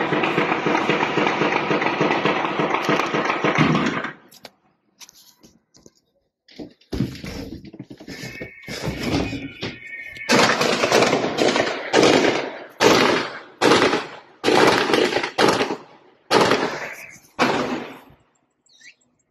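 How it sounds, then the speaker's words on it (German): Loud bursts of rapid submachine gun fire near the Israeli consulate in Munich, first one long sustained stretch, then several shorter volleys separated by brief pauses, echoing outdoors. "es gibt anscheinend Maschinenpistolenfeuer in München"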